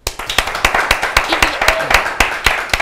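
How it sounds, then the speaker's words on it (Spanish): A small audience claps at a studio talk show, sharp hand claps in a steady, fairly quick rhythm filling the moment, loud and close with no talking over it. "Mire el aplauso que le vamos a brindar."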